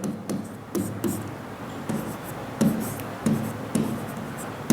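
Chalk or pen writing out a maths solution for a coordinate geometry problem, a quiet series of short scratchy strokes and taps at an uneven rhythm, close up in an otherwise quiet room.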